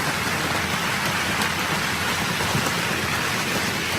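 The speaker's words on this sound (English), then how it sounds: "Oh, there's the rain." Steady heavy rain pours down during a storm, a dense continuous hiss of drops hitting surfaces, close and loud throughout with no voices.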